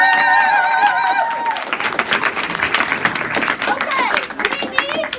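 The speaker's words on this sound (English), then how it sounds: "can you guys give them all one more round of applause?" Audience applause at a student presidential campaign speech event, a dense burst of clapping that swells after a moment and carries on steadily with scattered cheers and voices mixed in.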